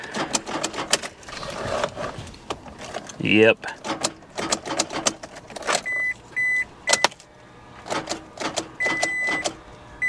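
A seized engine in a 1985 Chevy El Camino SS being cranked, giving short, repeated whirring bursts of the starter struggling against the locked motor, with brief clicks and someone talking nearby.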